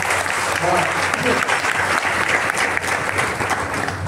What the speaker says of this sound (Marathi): त्याबद्दल एकदा जोरदार टाळ्या वाजवतात